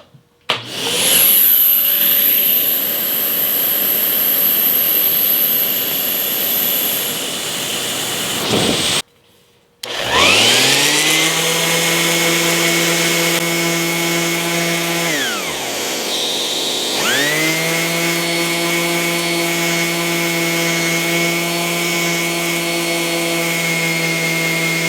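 Fein Turbo I wet/dry dust extractor running loudly and steadily alongside power tools, with a sustained close roar, a brief cut-out, and motors spinning up and winding down with rising and falling pitch, no talk.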